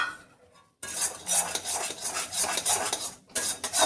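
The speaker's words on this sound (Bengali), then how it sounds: "আর একটু সুন্দর কালার আসবে খেতে, তার জন্য আমার আর একটু নাড়াচাড়া করতে হবে।" A utensil stirs and scrapes a fish mash with green chillies around a pan, giving repeated close metallic clinks and scraping strokes after a brief quiet start, with no talking.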